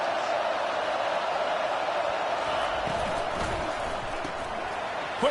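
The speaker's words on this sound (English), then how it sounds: "This crowd knows this defense needs them right now." Stadium crowd noise at a college football game in College Football 25, a Florida Gators contest: a broad, steady roar of the crowd with a few brief thumps and rises and no clear break.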